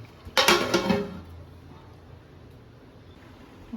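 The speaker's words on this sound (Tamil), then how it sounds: "மூடி போட்டுடலாம்." A metal lid is set onto a pan of whole chicken frying on the stovetop, a single clattering clank with a brief ringing rattle, then quiet.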